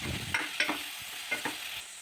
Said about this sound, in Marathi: आता आपण इथे बारीक कापलेले पालक टाकून छान अगदी फिरून घ्यायचं